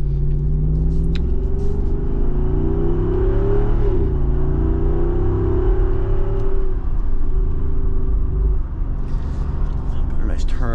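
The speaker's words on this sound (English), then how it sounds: "So I'm gonna go down to second gear right now." Jeep Wrangler Rubicon 392 engine, a V8, rumbling loud and steady as it downshifts into second gear, its pitch dipping and rising again under continuous talk from the driver.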